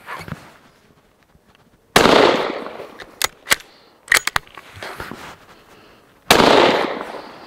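A Savage bolt-action rifle chambered in .222 firing outdoors: a few loud, sharp cracks spaced seconds apart, each followed by a short decaying echo, with small clicks and handling noises between shots.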